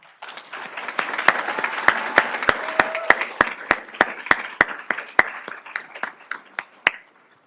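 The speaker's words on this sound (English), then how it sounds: "Please join me in celebrating our veterans today with a round of applause." An audience at a Veterans Day celebration applauds steadily, a dense wash of many clapping hands with a few sharp, close claps standing out, tapering off toward the end.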